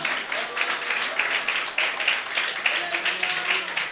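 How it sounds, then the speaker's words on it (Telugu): A church congregation at a Sunday service claps loudly in a steady rhythm, the applause continuous throughout with voices mixed in beneath it. "గట్టిగా చప్పట్లు కొడుతూ స్తోత్రం"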